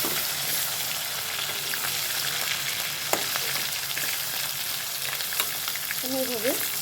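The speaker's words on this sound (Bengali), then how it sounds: "আমি এভাবে মাছগুলোকে প্রথমে ভেজে নিচ্ছি" Hilsa fish pieces fry in hot mustard oil with a dense, steady sizzle and crackle throughout, broken by a few soft clicks of turning or stirring.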